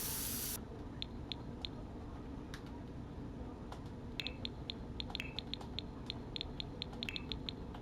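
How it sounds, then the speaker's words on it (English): Terrain paint sprayed in The Sims 4 gives a soft, steady hiss, faint and close, with a brief louder burst at the start and a scatter of light clicks and ticks over it. "I'm gonna just spray this all around real quick right here."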